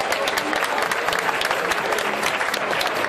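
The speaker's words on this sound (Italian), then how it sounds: "cominciamo ancora una volta l'applauso pubblico" Public applause from a crowd at the start of a Giro d'Italia stage in Sansepolcro, steady dense clapping filling the whole stretch, loud and close.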